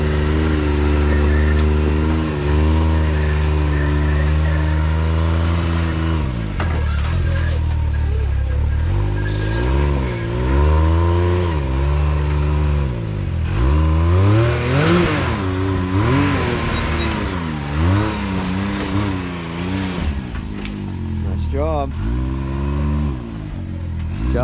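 An off-road vehicle's engine revs hard while climbing a rock face at an off-road park, loud and close for the whole stretch, its pitch rising and falling in repeated throttle bursts with no talk over it.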